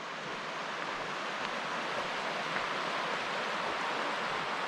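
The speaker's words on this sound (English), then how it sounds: "we're right on the Queets River." The Queets River flowing near a campsite, a steady broadband rush of moving water that holds constant and fairly loud throughout, with no voices over it.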